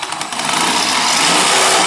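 A power drill whines at high speed while boring into a Fanatec sim-racing shifter, a loud, close, steady buzzing that rises slightly as it bites.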